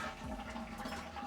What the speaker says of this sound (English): we've got to do the flush test first